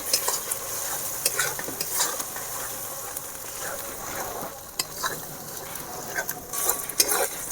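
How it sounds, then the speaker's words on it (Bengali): Ginger paste with garlic paste frying in a pan and stirred, a close hissing sizzle broken by repeated scraping strokes of a spoon against the pan at irregular intervals, with no voice. "আদা বাটা, ভালো করে ভেজে নেব"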